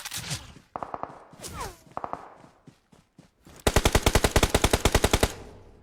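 Shooter video game gunfire on an ambush map: a few scattered single shots and short bursts, then a sustained, loud rapid-fire automatic burst lasting nearly two seconds, with no talking over it.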